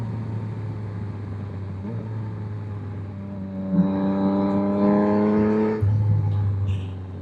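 2024 Yamaha XSR900 motorcycle with a flashed ECU accelerating, its engine note rising in a strong harmonic whine over steady road and wind rumble, then dropping away as the revs settle.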